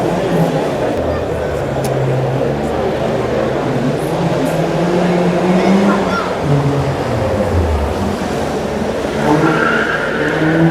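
Rallycross cars, Porsches among them, race past with a continuous engine roar and tire noise at a loud, sustained level while people talk nearby.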